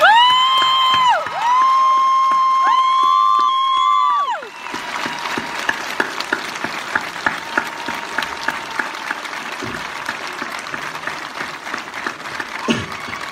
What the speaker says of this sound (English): I'm going to ask you to join me in giving him a round of applause.